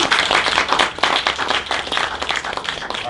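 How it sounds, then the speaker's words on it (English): Applause from a conference audience at a hardware maker event, dense sustained clapping filling the whole moment at steady loudness with no talk over it. "Gotta get a big round of applause for Ryan."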